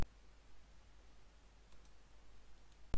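A computer mouse gives two sharp, isolated clicks during gameplay, one at the very start and one near the end, separated by near-silence with only faint background hiss.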